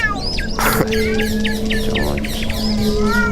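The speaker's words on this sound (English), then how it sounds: "It's a lot of birds." Bird chirping used as a sound effect in a radio show: busy, rapid tweets and trills over a steady low hum, fairly loud and close, with no talking.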